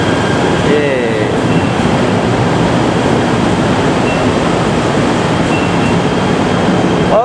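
Interior of a KTM Komuter train travelling from KL Sentral to Serdang, Malaysia: a steady, loud rumble and roar of the carriage in motion, with a faint squeal near the start and no talking.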